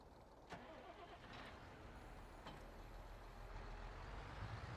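The John Deere tractor engine in Farming Simulator 22 starts with a short burst, then settles into a low, steady idle rumble that grows slightly louder toward the end.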